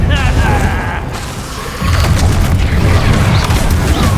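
Loud, deep booming blast of an Incendio fire spell in the video game Hogwarts Legacy, a sustained rumbling roar that swells partway through, with voices in the mix.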